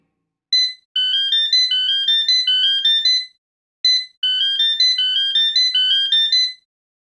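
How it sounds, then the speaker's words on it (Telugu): An electronic telephone ringtone sounds for an incoming call: a short tone, then a rapid melodic trill of bright beeps, a pause, and the same pattern repeating, loud and clear with no talk. "దాని గురించి ఆలోచించేలోపే బెంగళూరు నుంచి టెలిఫోన్కి ఇంటర్వ్యూ కాల్ వచ్చింది."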